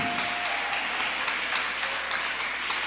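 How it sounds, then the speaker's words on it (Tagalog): A church congregation applauds in praise during a worship service, a steady, dense wash of clapping filling the whole stretch at moderate level with no talk over it. "Lahat tayo'y magbigay palakpak sa mahal na Panginoon."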